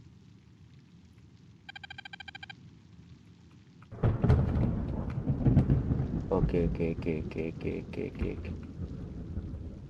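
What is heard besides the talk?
rain and thunder in video game Detective Duck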